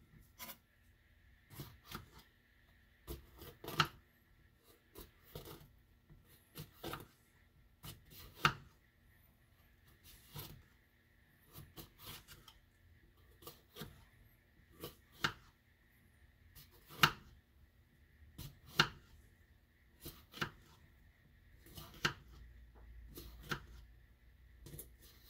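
A knife slices down the sides of a pepper on a cutting board with sharp, irregular taps and cuts in short bursts, quiet and close, with long pauses between the strokes.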